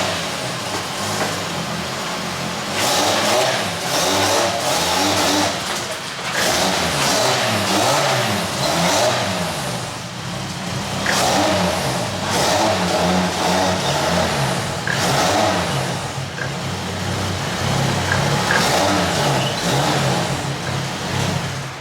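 A Lexus IS300 drift car's engine revving hard on a dyno, rising and falling in repeated loud pulls with short drops between, close and continuous.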